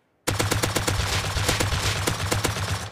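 The MT49 firing a rapid full-auto burst in the survival game Rust: loud, close, evenly spaced shots lasting about three seconds, with no talk.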